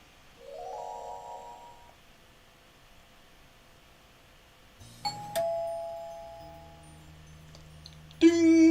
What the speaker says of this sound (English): The sound of the doorbell is elegant and serene. I've always liked the little chime that rings out whenever someone comes to visit me.